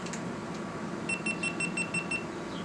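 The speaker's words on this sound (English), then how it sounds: "beeping sound is the GoPro dying" A GoPro camera with a dying battery gives a quick series of about seven faint, evenly spaced high electronic beeps over a low room background.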